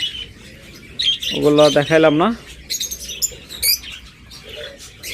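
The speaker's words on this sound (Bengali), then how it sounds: "আমাদের কাছে হিউজ পরিমাণ বাজবিগার পাখি রয়েছে" Pet budgerigars, part of a large stock kept by a breeder with eggs and chicks, chirp nearby in short, high, scattered tweets. Someone speaks briefly in the middle of the chirping.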